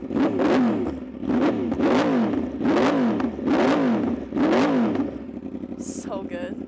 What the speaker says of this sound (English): I think I'm gonna get a few little revs in there.